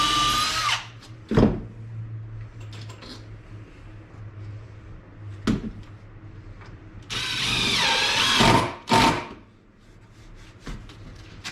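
Power drill driving screws into wood on a shaving horse build, with short whirring bursts spaced apart, a longer loud run near the end, and quiet room noise between.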